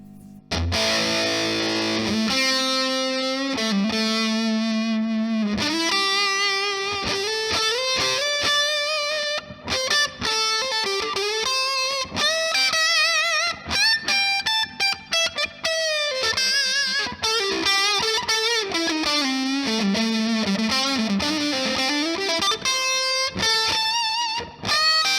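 Electric guitar played through a Black Arts Toneworks Pharaoh fuzz pedal at high gain, thick saturated distorted notes and riffs sustaining loudly and continuously, with no talking.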